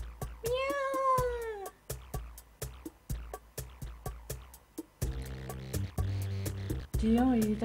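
A cat in the video game Dandelion gives repeated meows over a steady beat of sharp clicks, loud and close, the phrase ending in a final rising meow over a brighter musical passage.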